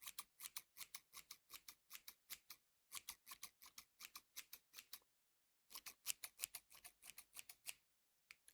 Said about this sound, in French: C'est une paire de ciseaux pour désépaissir les cheveux.